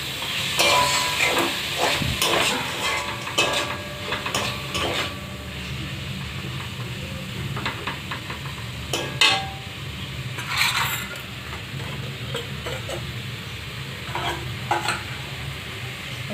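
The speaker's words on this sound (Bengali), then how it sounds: "টমেটো কুচানোটা দিয়ে আর একটু নেড়ে নেবো আমি" Chopped tomatoes are stirred in a frying pan for chicken pasta: a steady close sizzle with repeated scraping strokes of the spoon throughout, and no voices.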